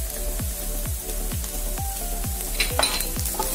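Green chilies sauté in a pan with onion and garlic, giving a steady sizzle. A spatula scrapes and stirs in a regular rhythm about twice a second, close and fairly loud, with no talk.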